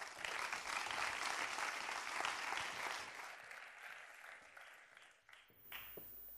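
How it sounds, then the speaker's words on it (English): Conference audience gives warm applause to welcome a speaker, a full, even wash of clapping that gradually thins and fades out toward the end. "So could you please give a warm round of applause for Carole Leslie?"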